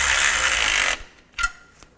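Power tool tightening brackets under a 2011-2015 Chevy Cruze during an oil filter housing replacement, a loud buzzing whir that stops abruptly, followed by a few short clicks and knocks.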